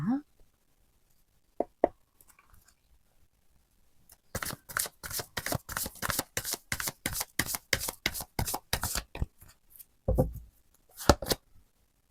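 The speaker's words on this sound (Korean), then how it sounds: "카드를 좀 더 열어보도록 할게요" Tarot cards being shuffled and handled during a reading: a fast run of crisp riffling flicks, steady and close, with a few isolated taps before and soft handling thumps afterward, no talk over it.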